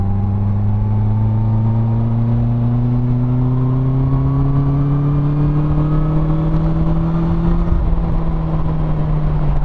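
A Honda CB650R motorcycle engine with E-Clutch revs steadily upward from about 3000 rpm in sixth gear as the throttle opens, its loud droning pitch climbing smoothly for several seconds before easing off.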